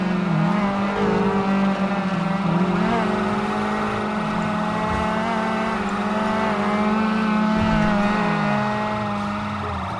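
Several McLaren sports cars race in GTA 5, with sustained high engine drones and shifting revs layered together, loud and continuous, with occasional pitch swoops as the cars accelerate and pass, and no talk.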